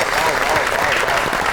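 Studio audience on a Pakistani comedy talk show clapping to welcome guest Barrister Amir Hassan: a short, dense burst of steady applause, close and fairly loud throughout.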